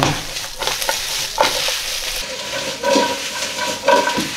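Sliced zucchini and carrots are stirred in a hot pan: a steady sizzle with scraping and clacking of the utensil at irregular moments, close and moderately loud.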